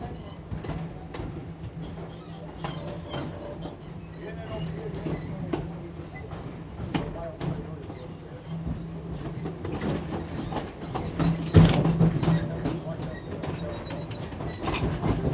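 The Wildlife Express Train at Disney's Animal Kingdom runs with a steady mechanical rumble and rattling carriage noise, a faint low hum throughout and occasional clanks, with no clear talk.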